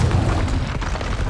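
A Confringo blasting spell from Hogwarts Legacy detonates as a brief, loud booming explosion with a rough crackling tail, close and dense, lasting just over a second with no speech.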